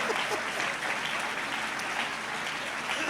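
Audience applause at a Hindi comedy poetry show, a dense steady wash of clapping that fills the hall throughout without letup.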